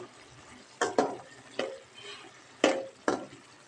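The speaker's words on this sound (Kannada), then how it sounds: "ಈಗ ನಾವು ಉಪ್ಪು ಹಾಕಿದ್ದೇವೆ, ಉಪ್ಪು ಹಾಕಿಬಿಟ್ಟು ಫ್ರೈ ಹಾಕ್ತಿದ್ದೀನಿ." Green beans stir-fried with salt in a pan for a village-style beans palya: quiet spatula scrapes and stirs in five separate strokes over a faint sizzle, with no talking.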